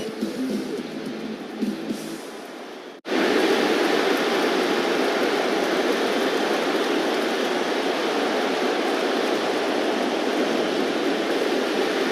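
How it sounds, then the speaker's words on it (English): Heavy rain pours steadily over PNC Park during a Padres–Pirates baseball rain delay. A dense, unbroken hiss starts abruptly after a brief quieter stretch and stays loud and even to the end, with no talk. "the tarp has been pulled on the field. There is a rain delay"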